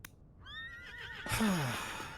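A horse in a video game neighs in a loud, shrill whinny that rises and then falls away, heard alone with no talk over it.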